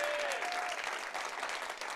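Distant, steady applause rolls from the crowd at the Synthesize 2017 keynote, a faint, even patter of many hands filling the conference hall.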